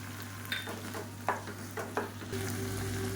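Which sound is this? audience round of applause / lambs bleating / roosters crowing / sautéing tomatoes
sautéing tomatoes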